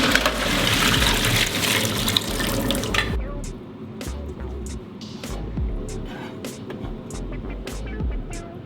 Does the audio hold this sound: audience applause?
no